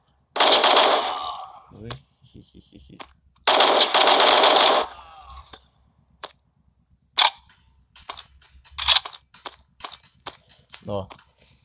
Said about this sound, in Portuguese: O tiro dele nesse jogo aqui é automático.